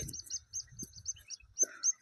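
Small birds chirp and tweet in quick, high bursts outdoors beside a river, fairly faint, with soft low rumbling beneath.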